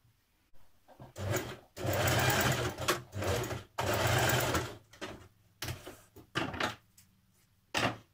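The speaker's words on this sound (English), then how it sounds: "you're going to machine baste it where your marking is here on your bodice front" A sewing machine basting a strap onto the bodice front of a jumpsuit, running in several loud close bursts of rapid stitching separated by short pauses.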